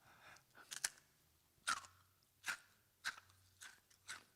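Close, quiet crunching bites and chewing of a crunchy caramel-tasting cookie, with several sharp crisp crunches spaced irregularly between softer munching sounds.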